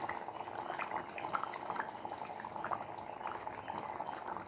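Thick chicken curry bubbles and simmers in an open pot, a continuous soft gurgling and popping at close range with no voices.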